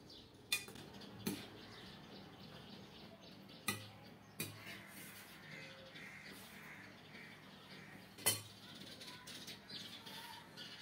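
Plates and cutlery clink sporadically during a home meal of fried pumpkin greens and oil-free lentil dal, with a few sharp, close clinks over a quiet background and what may be crows cawing faintly outdoors.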